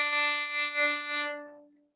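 Single up-bow stroke on a bowed string instrument, one clear sustained note with a gently wavering swell that fades smoothly out over about two seconds, heard alone without speech.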